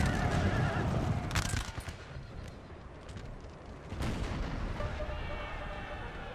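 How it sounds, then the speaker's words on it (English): In the Napoleon Total War video game, a cavalry charge brings a horse whinny with rumbling hooves and battle noise, then sharp bursts of gunfire and cannon-like booms over a constant din. "More cavalry charges."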